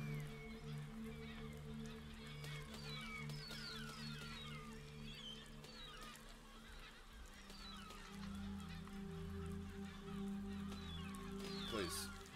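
Geese honking in a game, a steady run of overlapping honks and squawks over a droning background hum, lasting throughout at moderate loudness.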